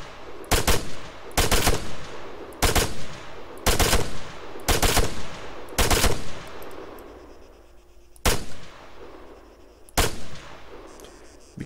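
Automatic rifle fire in the video game Arma 3, heard as short loud bursts of rapid shots, about six evenly spaced volleys and then two more sparse ones, each ringing out with a decaying echo and no talking.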